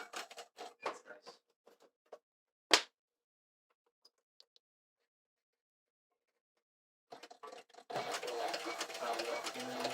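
Sewing machine stitching a leather double buscadero holster rig, heard as a loud, dense whirring run in the closing seconds after scattered quieter sounds and a sharp snap earlier.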